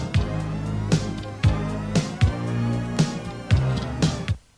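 An edited sampled sequence played back from a 1985 TC Electronic 2290 digital delay: a repeating pattern of punchy low drum hits and bright attacks in a steady rhythm, loud and unaccompanied, cutting off at the end.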